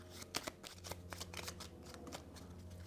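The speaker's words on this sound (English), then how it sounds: "Shuffling again." Playing cards for the tabletop board game Dawn of Ulos get shuffled in a quick riffle with rapid crisp flicks close by, quiet and without talking.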